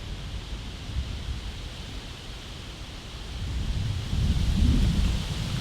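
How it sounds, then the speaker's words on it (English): Strong wind roars and buffets the microphone in continuous gusts beside a lake, rumbling low and growing louder toward the end, with no talking. "look at the wind just ripping right now on the side of this lake"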